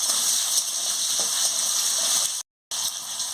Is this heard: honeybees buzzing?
no